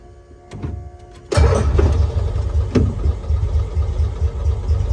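A 1990s Cushman Truckster utility vehicle is tested for throttle response: a few faint clicks, then the engine abruptly roars into a loud, rough running note with uneven surges as the throttle is worked, nearby and without speech.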